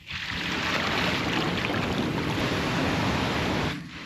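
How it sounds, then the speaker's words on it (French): Large ocean swell breaking on a beach on a remote island: a loud, continuous roar of surf with wind buffeting the microphone, easing off near the end. "Il y a d'énormes vagues en ce moment."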